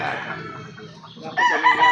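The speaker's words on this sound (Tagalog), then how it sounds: "ito ipapakita natin yung manok ni sir." A rooster crows in a flying pen on a gamefowl farm, an imported Albany-line bird crossed with a Sweater. The single crow is loud and close, rising sharply toward the end over a background of farm noise.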